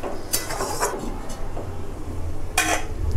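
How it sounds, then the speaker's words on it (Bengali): Fish head stirred into a curry in a pot, with a few metallic clinks and scrapes of a spoon against the vessel under a low simmering hiss, ending with a louder clang as the lid goes on. "এবার আমি মাছের মুড়োটা দিয়ে দেব ঝোলের মধ্যে। ভালো করে নেড়ে চেড়ে মিশিয়ে দেব, দিয়ে আবার ঢাকা দেব।"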